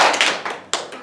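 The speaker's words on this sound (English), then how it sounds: "So we're going to go clap your neighbors, then yourself." Third-grade children clap hands in a folk dance lesson, four sharp, close group claps in an uneven rhythm, each fading quickly, with no talk.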